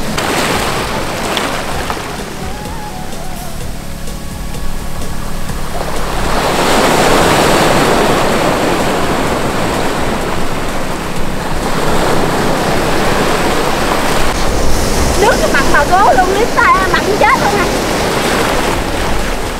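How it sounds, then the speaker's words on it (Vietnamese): Sea waves breaking along the shore at Tân Thành beach in Tiền Giang, a steady broadband wash rising in waves with wind buffeting the microphone, fairly loud throughout while a few people talk faintly in the background. "Có nghe tiếng sóng đánh không?"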